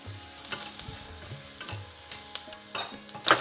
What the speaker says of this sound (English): I've got a couple of heaped tablespoons of salted butter that will go in here. Let it kind of sizzle and melt.